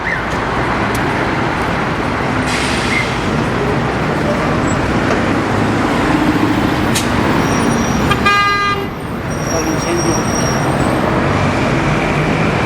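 Dense, loud city traffic and buses at a major Mexico City bus terminal by a freeway, a steady roar of engines with scattered horn toots throughout and a short brief lull near the end.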